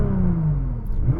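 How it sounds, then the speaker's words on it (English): A Nissan GT-R engine revs up briefly and close, its pitch climbing then falling in a short burst, heard alone. "I'm going to rev up this GTR now because it sounds good"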